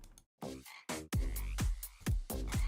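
A video game frog croaks in a series of loud, deep, resonant calls, about five in quick succession, close and clear with no talk over them.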